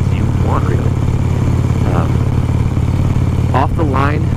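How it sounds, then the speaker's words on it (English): A Harley-Davidson Iron 883 motorcycle engine drones loudly and steadily close by while riding, with a low rumbling throb and brief chirps of other sounds over it. "This is a real bike. This is a real motorcycle."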